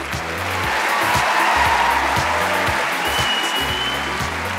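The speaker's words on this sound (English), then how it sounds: "Give them a round of applause." Studio audience applause at a talent show, loud and sustained, with music and a broad wash of clapping filling the whole stretch.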